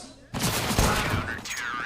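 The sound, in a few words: SMG gunfire in Counter-Strike video game, Mirage map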